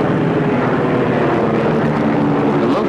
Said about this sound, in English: They meet the Yonkers and Messerschmitts head-on over the airfield.